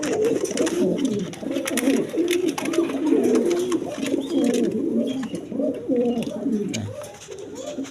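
Several pigeons coo continuously close by, their low rolling calls overlapping in a busy chorus with occasional fluttering.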